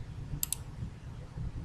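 Two quick, crisp mouse clicks sound close together during work in a video editor, set against a low background hum.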